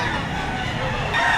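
A rooster crows at an outdoor chicken market behind SM City Lipa, Batangas, a brief near call rising over a busy background of other fowl and market noise.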